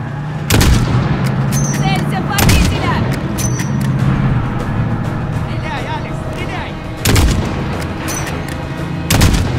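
Gunfire aimed at an approaching car bomb in Call of Duty Modern Warfare: sharp, loud shots crack out in a few bursts over a rumbling battlefield while a voice shouts urgently.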